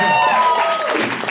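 Audience applause at a home concert given for Easter in Kyiv, a warm spread of clapping that fills the short stretch, loud and close with some voices mixed in.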